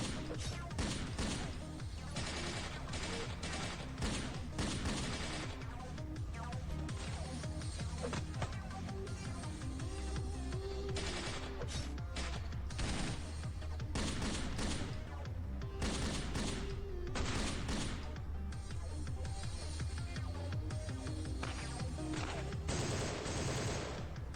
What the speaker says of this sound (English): Some good shooting there, Sanford.